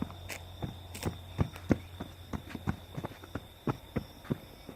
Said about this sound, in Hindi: काफ़ी अजीब सी आवाज़ें आ रही है, ऐसे लग रहा है जैसे कि भाग रहा हो।